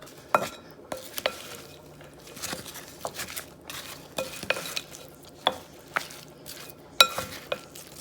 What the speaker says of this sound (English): now we're gonna go ahead and mix this up